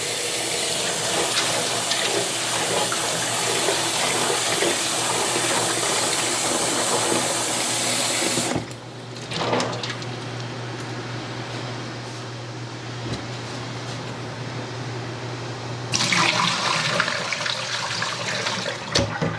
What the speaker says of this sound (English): Pour off the water, add some fresh water, and rinse again